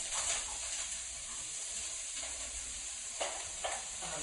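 Onions and peppers stir-fried in oil give off a faint, steady sizzling hiss, with a few brief swishes of stirring near the end.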